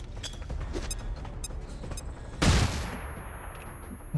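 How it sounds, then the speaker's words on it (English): A flashbang grenade goes off in XCOM 2 as one sudden bright burst partway through, followed by a brief fading ring above a busy background of faint game clatter. "Let's flashbang."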